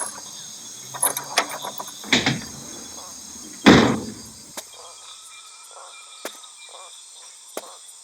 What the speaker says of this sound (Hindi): मैं चल के दरवाजा खोलता हूँ